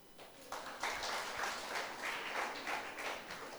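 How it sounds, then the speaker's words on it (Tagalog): A church congregation applauds in a faint, distant, steady patter of many hands clapping that swells slightly and continues without pause. "Palakpak."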